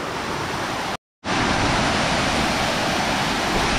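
A hidden waterfall near Roha pours in a steady, loud, broadband roar close by, broken only by a brief cut of silence before the rushing water resumes.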